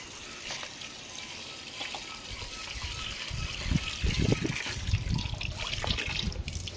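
Water splashes and trickles over thin-sliced potatoes being rinsed for chips, starting as a soft running stream and growing into louder sloshing and swishing near the end, with no speech.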